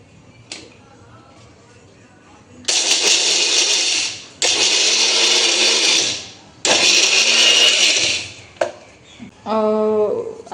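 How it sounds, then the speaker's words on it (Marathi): Mixer grinder pulverising cardamom with sugar for kheer, running in three loud sustained bursts separated by short pauses, ending with a brief clatter and a high tonal tail; no talking. "याला ग्राइंड करून घेणार आहे मिक्सरला, म्हणजे ती वेलची आहे याच्यामध्ये बारीक होईल।"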